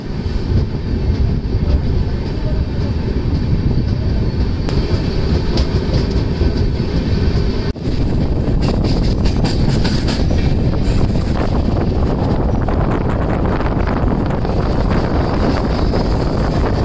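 The Howrah–Mumbai Mail train rolls along after departing a small village station. A loud, steady rumble of the carriages carries rhythmic clickety-clack wheel beats and wind buffeting the microphone throughout.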